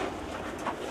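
Pigeons of a popular fancy breed in a loft give soft, low cooing murmurs against a dense, steady background hum, with no talk over them.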